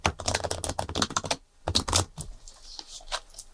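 Playing cards are shuffled close up on a table in a riffle of fast crisp flicking and clicking, followed by a pause and a few softer, scattered taps.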